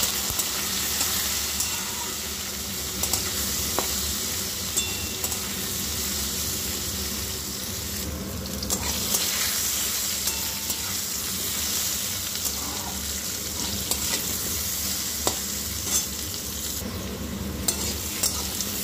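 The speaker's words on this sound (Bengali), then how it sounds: "দিয়ে আবার আলুটাকে একটু ভেজে নেব লাল করে।" Potato pieces with turmeric fry in hot oil, giving a steady, close sizzle with faint stirring scrapes throughout and no voices.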